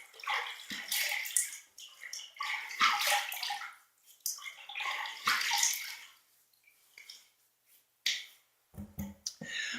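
Water splashes in uneven bursts as hands scoop it onto a face before shaving, close and fairly quiet with short pauses between splashes.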